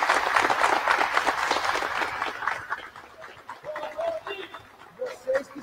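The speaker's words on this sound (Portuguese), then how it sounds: "pedir para vocês baterem uma salva de palmas para vocês" Crowd clapping at a futsal final trophy ceremony, a dense burst of applause that fades after a few seconds, leaving scattered claps under talk and cooing pigeons.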